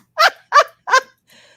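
A puppy barks three times in quick, evenly spaced high-pitched yips, close and loud, followed by a faint trailing whimper.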